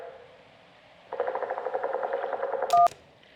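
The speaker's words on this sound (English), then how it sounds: "That was a motorboat's propeller failing." A motorboat propeller failing, a sound effect in the video game Kentucky Route Zero, gives a rapid, fluttering, sputtering drone that chugs unevenly for under two seconds, ends with a short clipped burst, then drops to quiet.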